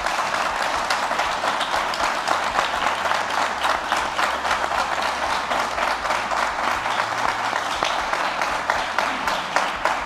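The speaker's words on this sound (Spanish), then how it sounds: "Un aplauso para ellos." Steady, dense applause from an audience at the Gastro Movida 2022 gastronomy panel on creativity, honouring two restaurant chefs; the clapping stays even and full-room throughout, with no break.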